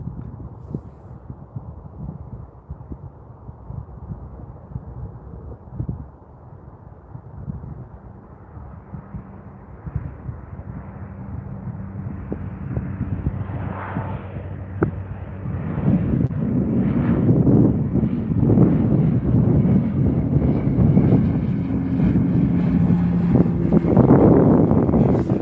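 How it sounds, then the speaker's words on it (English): A Dash 8 turboprop rolls down runway 35 right at Calgary Airport, its engine drone building gradually from a distant hum to a louder rumble over about twenty-five seconds, with some wind noise. "Here comes the Dash 8, just rolling down runway 35 right."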